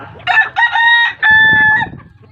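Chickens cluck and a rooster crows close by, a loud strained crow rising out of a few short clucks, then trailing off into quieter clucking.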